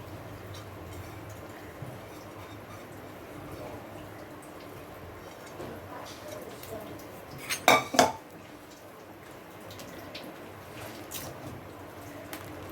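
Rice going into a cooking pot for jackfruit biryani, heard as a quick double clink and clatter midway through an otherwise steady, low kitchen background hum.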